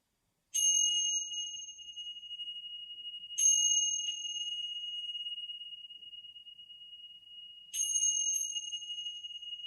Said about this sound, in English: So when you hear the chime, you're going to breathe in